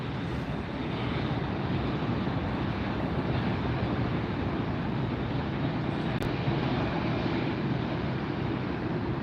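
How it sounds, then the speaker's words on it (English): Air Tahiti Nui Boeing 787-9 Dreamliner taxiing and turning at LAX, heard as a distant, steady low engine rumble mixed with outdoor wind noise, continuous and fairly faint without any talking. "There's the Air Tahiti Nui 787-9 Dreamliner making the turn"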